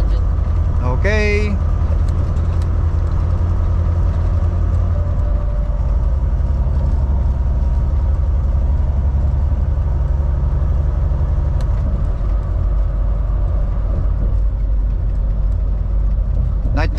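Truck driving at night across the Ambassador Bridge, a steady loud low engine and road rumble heard from inside the cab, with a brief electronic chime near the start and someone speaking over it.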